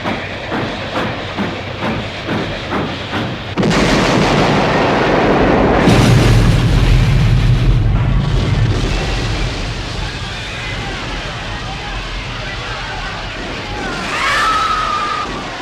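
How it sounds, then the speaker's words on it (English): Rhythmic chugging gives way to a sudden loud crash of two trains colliding at speed and a long roaring rumble, then a hissing burst of steam and a shrill whistle near the end. "The low thud of the trains contacting should have been clear and solid"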